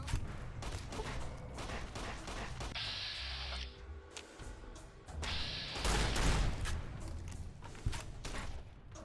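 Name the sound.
gunfire in the video game Fallout: New Vegas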